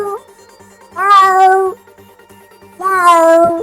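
A person imitates a cat with two long, loud, clear meows, each about a second apart, with quiet between them.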